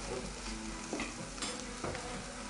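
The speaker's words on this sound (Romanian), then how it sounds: "Amestecăm." Fried rice, Yangzhou style, seasoned with salt and a teaspoon of sugar, being stirred in a hot pan with a steady sizzle and a few sharper scrapes of the utensil, close and continuous with no talk.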